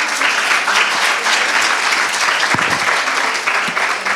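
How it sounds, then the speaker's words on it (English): An audience at an education and social sciences conference applauds a panel session, a loud, steady wash of clapping that holds for the whole stretch. "Please kindly applaud and please give your applause"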